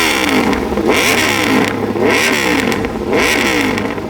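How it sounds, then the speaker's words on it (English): A 2020 Aprilia RSV4 RR V4 motorcycle exhaust revs loudly and close in three rising and falling blips over a constant engine rumble. "The V4 powerhouse isn't as refined as an inline 4, but it makes up with a mind-blowing exhaust note."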